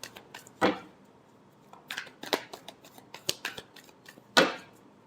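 Tarot cards being shuffled by hand: soft riffles and a few sharper snaps and flicks in irregular bursts, close and quiet, with near silence between, no talk.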